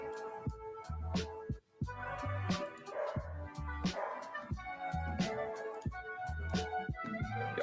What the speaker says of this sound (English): He just barks and barks and barks.